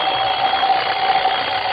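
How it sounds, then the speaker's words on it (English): An alarm clock goes off in a Halloween story, a loud continuous electronic ringing buzz that holds steady for the whole short stretch, close and alone. "Coming awake, I heard the alarm we'd set go off."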